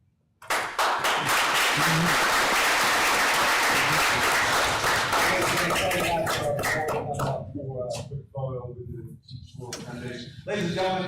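An audience at a school board meeting bursts into loud, sustained clapping that fades after several seconds as a voice begins speaking over the tail end.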